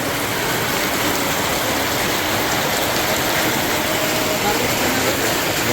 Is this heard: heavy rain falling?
yes